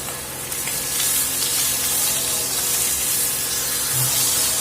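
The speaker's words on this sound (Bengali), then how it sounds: "নুন আর হলুদ মাখিয়ে রাখা মাছের মাথা আমি দিয়ে দেব তেলের মধ্যে" Rohu fish heads coated in salt and turmeric drop into hot oil and fry with a loud, close, spraying sizzle that starts abruptly and holds steady, with nobody speaking.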